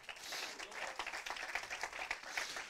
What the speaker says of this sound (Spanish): Dele ese aplauso a Cristo